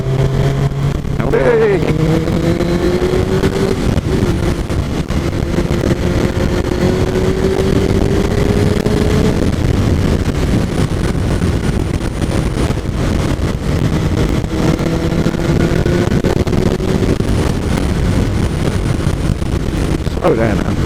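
A Suzuki GSX-R 1000 K5 motorcycle is ridden on the road, its engine a continuous mid-pitched drone that rises and falls through gear changes under heavy wind rush, with the rider talking over it.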